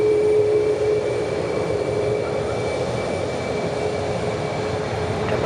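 A Korean Air A330 bound for Seoul rolls down a runway at JFK: a steady, loud, broadband jet roar with a faint high whine, continuous throughout with no talking.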